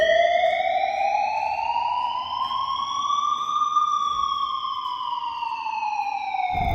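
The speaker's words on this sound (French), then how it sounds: "il y aurait un entraînement dans le condo où il y aurait une alarme et tout le monde devrait descendre" A fire alarm siren sounds during a drill in a Bangkok condo building: a steady electronic wail slowly rising and then falling in pitch, loud and continuous throughout.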